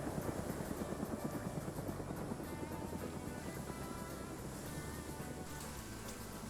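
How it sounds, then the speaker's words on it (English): Steady rhythmic whir of helicopter rotor blades in a video game, continuous and even, slowly fading slightly, with no voices. "Plane might be tracking the helicopter here as the helicopter circles around."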